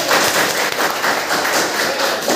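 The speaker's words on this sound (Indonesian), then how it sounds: "Kita beri tepuk tangan dulu" A classroom of students gives a short burst of steady, dense clapping for a classmate, loud and close, with no talking over it.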